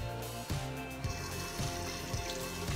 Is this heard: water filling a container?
yes